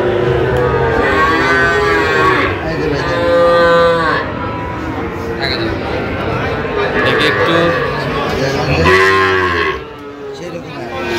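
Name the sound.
Sahiwal bull calves mooing at cattle market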